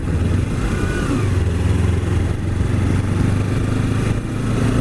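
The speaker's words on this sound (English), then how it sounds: "This exhaust thing doesn't sound too bad at all." A 2014 Kawasaki 300 Special Edition motorcycle running with an aftermarket exhaust, giving a continuous mid-loud engine drone with a low throbbing note while riding, no voices over it.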